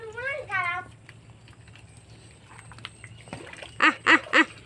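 A duck quacks three times in quick succession up close on the bank of the Turag River, following a voice at the start over quiet background rustling.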